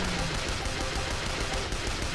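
Continuous gunfire in the zombie shooter game School Girl Zombie Hunter, a dense, fairly quiet clatter of shots that runs throughout without a clear break.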